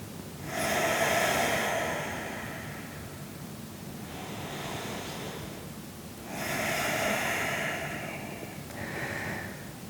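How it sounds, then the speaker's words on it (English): Slow yoga breathing in and out through the nose, close and loud: long airy inhales and exhales in an even rhythm, about two full cycles. "Breathing in and out through the nose."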